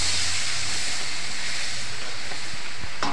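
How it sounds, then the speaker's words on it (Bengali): Ground white mustard paste dropped into hot mustard oil with fried green chillies, a loud steady hiss of sizzling oil with a brief knock near the end. "সেই সর্ষে বাটাটা আমি তেলের উপর দিয়ে দিলাম।"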